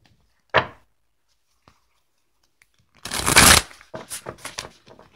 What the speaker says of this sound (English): I want to take an additional card from the Brian Weiss Healing the Mind and Spirit cards